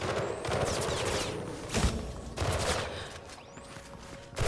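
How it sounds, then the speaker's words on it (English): Gunfire in the video game Mirror's Edge Catalyst: dense, overlapping bursts of rapid shots roll on continuously, with sharper loud cracks standing out near the middle and at the very end. "I said stop shooting, man"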